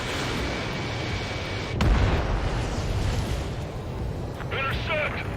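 Explosions and anti-air gunfire in the Ace Combat 7 video game, a dense rumbling barrage with one heavy blast partway through and bursts of rapid fire near the end, loud and continuous.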